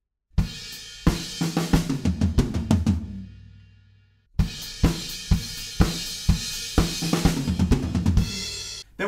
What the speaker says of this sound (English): At the end of that chorus, there's one little fill that sounds like this.